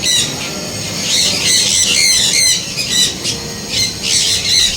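Several aviary birds give loud, harsh squawks and shrill calls in repeated bursts close by, nearly continuous, with no talking.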